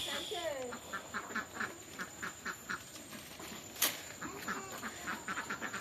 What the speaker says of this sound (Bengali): সাথে হাঁস